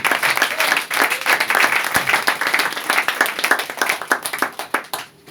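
A church congregation applauds the Lord: dense, sustained clapping from many people in a reverberant hall, lasting several seconds before tapering off.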